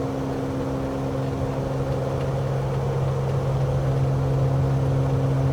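Simulated aircraft engine at full takeoff power in Microsoft Flight Simulator, on a runway for the flight from Westray to Papa Westray: a steady, even droning hum holding constant throughout, moderately loud and alone.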